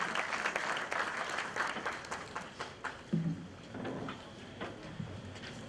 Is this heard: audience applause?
yes